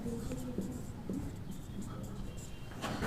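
Handwriting during a law lecture on coercion under the Indian Contract Act, with soft, close scratching strokes under and between a teacher's speech, ending in a brief louder burst of strokes.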